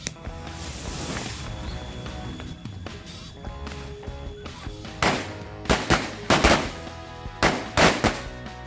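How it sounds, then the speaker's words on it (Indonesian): Music plays at first, then several sharp, loud bangs burst out in an irregular series as match-type firecrackers, including a black Corsair, go off one after another inside a water jug. "selanjutnya ini mercon korek Corsair warna hitam"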